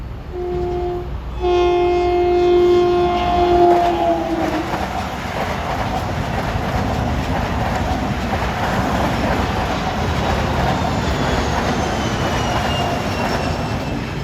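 A Long Island Rail Road train on the Ronkonkoma Line passing a busy grade crossing at track speed, opening with loud horn blasts, then a steady close rumble and clatter of wheels rolling by.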